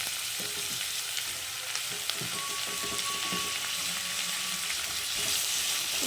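Chopped tomatoes sautéing with onions in a pan for tomato gojju, a continuous close sizzle with scraping stirring strokes throughout and no talking.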